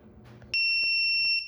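An AtemPower 12V 100Ah battery hub's over-voltage protection buzzer sounds a single loud, piercing high-pitched tone that starts abruptly and holds for about a second, with faint background noise before it.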